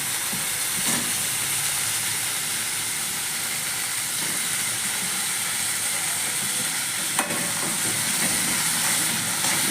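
Potatoes sizzle in a hot pan of fenugreek-leaf mixture as they go in, a steady bright frying hiss with a couple of brief clinks, alone without talk.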